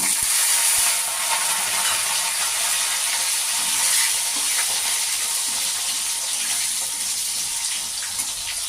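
Potatoes hit hot oil with whole cumin in the pan and fry with a loud, continuous hiss and crackle, a steady bright sizzle that carries on for several seconds with no talking.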